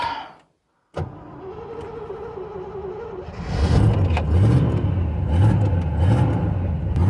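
A clapped-out V8 Fox Body Mustang is heard from inside while driving after a brief silence: a low engine drone that swells into rhythmic revving as it pulls away, loud and close, with no talking.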